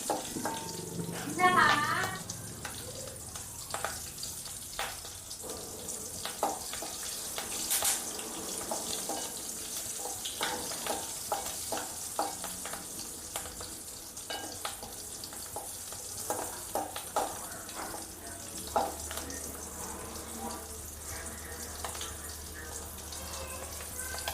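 Dried fish fries in hot oil with a steady crackling sizzle and scattered spitting pops, heard close throughout, with brief faint talk near the start.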